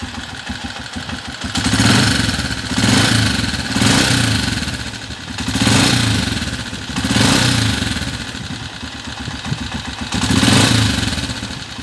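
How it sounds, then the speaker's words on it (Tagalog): A noisy Honda TMX 125 Alpha motorcycle engine in need of a tune-up runs close by, idling with a steady mechanical clatter that swells in periodic revs every couple of seconds, with no talking. "medyo maingay na rin yung makina niya mga kabro"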